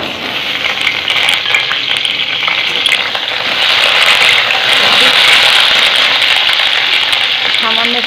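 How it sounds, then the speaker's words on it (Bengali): Potatoes fry in hot oil in a wok with a loud, continuous sizzle that swells midway, joined by occasional scraping and stirring. "আলুটা ভেজে নিচ্ছি আগে।"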